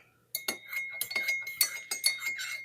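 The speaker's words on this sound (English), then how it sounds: "I filled the cup. And let's stir it." A spoon stirs peppermint tea in a cup, clinking against the sides in a quick run of about a dozen bright, close taps that ring briefly, with no talk.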